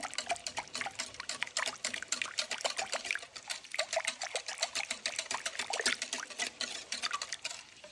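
Brown sugar sauce for Korean beef whisked in a bowl, a rapid, steady run of light wet ticking strokes with a liquid swishing quality, close and continuous, no one speaking.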